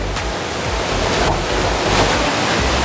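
A waterfall pours inside a jungle dome greenhouse, a dense, steady rushing wash of water that holds level and fairly loud throughout.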